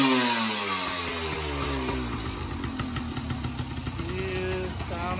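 A restored 1986 Honda ATC250r three-wheeler runs nearby, its two-stroke engine buzzing and revving with shifting pitch, loud and steady throughout.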